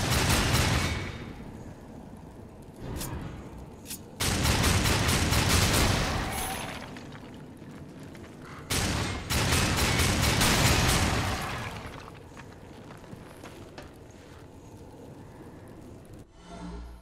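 Weapon fire from a gun in Darksiders 2 comes in heavy, loud sustained bursts separated by brief pauses, with booming low end and a harsh crackling top.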